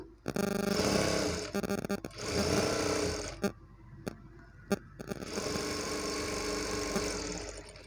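A sewing machine stitches a blouse dori in rapid mechanical bursts, loud and close, with brief pauses and a few sharp clicks between runs.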